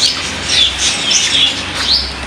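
Golden fancy chicks chirping continuously, a close cluster of high, overlapping peeps over a soft steady background hiss.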